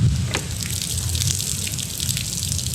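Water pours and trickles out of a moldy window air conditioner being cleaned, a steady splashing gush with small drips throughout, fairly close and continuous with no talk.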